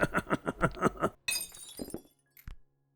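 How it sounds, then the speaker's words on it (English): Glass breaking in the video game I Am Bread, a sudden bright shatter with tinkling shards falling off, following a burst of rhythmic thumping and a small clink afterward. "I feel the need to apologize every time glass breaks"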